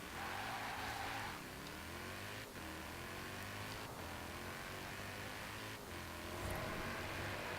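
A 1953 Jaguar C-Type accelerates hard in Forza Horizon 4, its engine note droning steadily and loud at high speed with brief dips at gear shifts, plus light tire noise throughout.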